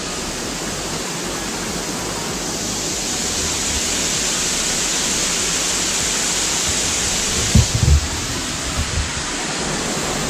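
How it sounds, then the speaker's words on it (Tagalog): Steady, full-band roar of water plunging down the high Alimbuyao Waterfalls in Bolinao, loud and constant throughout, with a few brief low thumps near the end. "So ito mismo yung tubig na bumabagsak sa baba."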